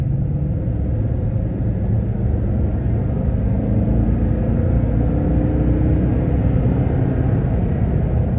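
A Toyota Tundra pickup's engine pulls hard in tow haul mode, holding a low gear as it accelerates, a steady loud droning rumble heard from inside the cab with no talking.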